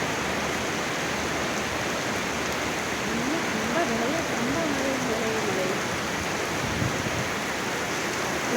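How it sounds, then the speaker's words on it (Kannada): Steady, dense rain roars in a constant wash of hiss, with a faint voice briefly audible beneath it. "ಜೋರು ಮಳೆ ಬರ್ತಾಯಿದೆ"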